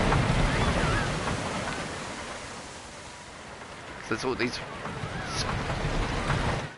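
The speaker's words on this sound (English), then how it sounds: "So that's triggered waterfall splashes everywhere the coaster hits." In Planet Coaster, a roller coaster splashes through water and triggers waterfall effects, making a constant rushing, rain-like hiss with a few louder bursts of spray. Someone talks quietly over it.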